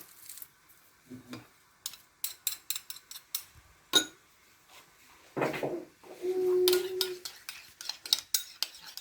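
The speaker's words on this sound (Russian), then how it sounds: "выдавим 2 зубчика чеснока" Two garlic cloves pressed in a home kitchen while cooking Ingush chicken gravy: a series of close clicks and taps of the press and utensils, then a longer squeezing, scraping crunch as the garlic is forced through.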